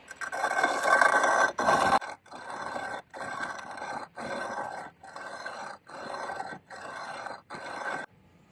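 Harsh rasping scrapes of a file on metal, a long stroke followed by about seven regular back-and-forth strokes with short pauses, close and loud.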